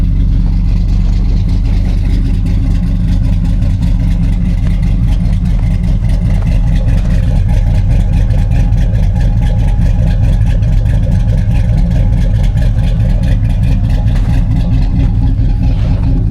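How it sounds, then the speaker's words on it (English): Cammed Chevrolet Malibu engine with a Texas Speed Chopacabra cam, LS7 lifters and a cheap Chinese muffler, idling steadily and loudly close by with a continuous deep rumble and faint uneven chop, no talking. "When it's cold, it doesn't chop real hard right away. It's got to come off a high idle, but just got a Chinese muffler on there."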